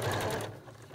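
A sewing machine stitches a fabric face mask in a short burst, a close, dense motor whir that cuts off partway and leaves a quieter hum.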